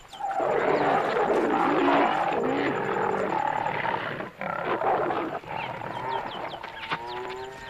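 An African lion roars loudly and close in the wild, a long rumbling, throaty call that rolls on for several seconds with brief dips before trailing off.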